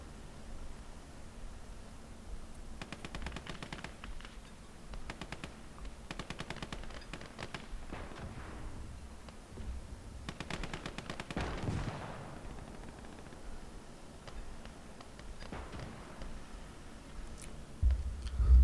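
Machine guns rattle in long and short bursts during a Finnish winter skirmish in the WWII strategy game Call to Arms: Gates of Hell, with sustained rapid fire, scattered gunshots and battlefield noise.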